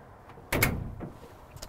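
The walk-through door into the mid-tack area of a Trails West Classic horse trailer gives a sharp metallic latch clack followed by a short rattle and a softer second knock, close by.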